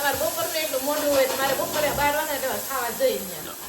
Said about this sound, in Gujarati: મમ્મી વઘાર કરે છે